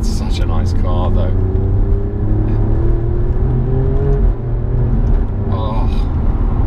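Alfa Romeo Giulia Quadrifoglio with a ZF 8-speed gearbox driving on the road, a close steady engine rumble and whir, with brief bursts of talk over it.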